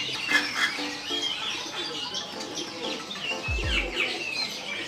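Ornamental pigeons and chickens at a kiosk in a bird market fill the air with steady overlapping chirps, tweets and clucks, close and moderately loud, with no talking.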